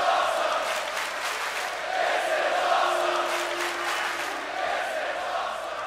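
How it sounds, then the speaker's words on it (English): A wrestling crowd at a Slammin' Saturdays event roars in sustained cheering and shouting, a dense, loud wall of voices that stays strong without a break. "Crowd absolutely loves it."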